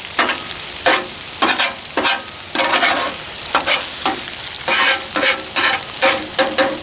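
Ribeye fries with garlic butter on a griddle, a steady close sizzle broken by repeated scraping and stirring strokes at a fairly even rhythm, with no voices.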